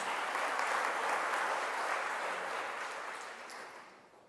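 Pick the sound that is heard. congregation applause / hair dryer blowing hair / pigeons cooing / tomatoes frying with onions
congregation applause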